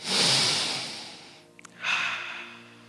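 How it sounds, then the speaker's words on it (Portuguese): A live audience at a motivational talk in Curitiba breathes together, a long, loud collective exhale of airy hiss that fades, a short pause, then another broad breath swelling up and trailing off. "Respira, deixa eu ouvir a respiração de vocês."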